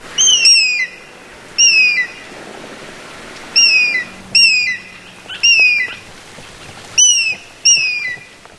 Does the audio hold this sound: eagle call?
yes